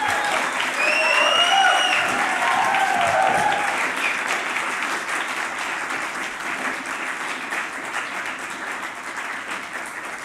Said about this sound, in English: One more round of applause for Charlie, Jason, Isaac, and Rachel.